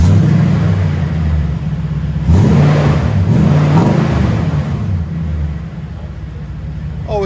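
A 2017 Toyota Tundra 5.7L V8 with Magnaflow exhaust and 18-inch tips, its deep rumbling idle rising through several throttle blips and revs, loud and close.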